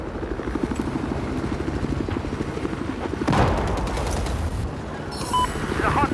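Battlefield 4 gameplay: a helicopter rotor drones throughout under bursts of gunfire and explosions, the combat growing louder midway with sharper shots near the end.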